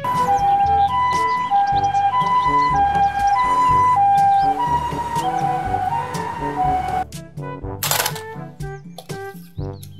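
A toy ambulance siren plays a looping electronic wail with a musical melody over it, steady and fairly loud for most of the clip before ending in a few sharp clicks and beeps.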